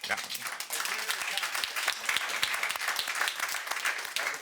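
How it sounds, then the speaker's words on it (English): A conference audience applauds after a keynote introduction on liberal internationalism, with dense, steady clapping from a roomful of people lasting throughout, fairly close and even in loudness. "That was led by my wife. I did not see Roberta clapping, actually"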